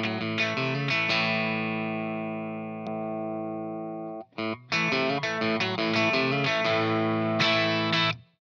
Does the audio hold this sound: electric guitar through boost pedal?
yes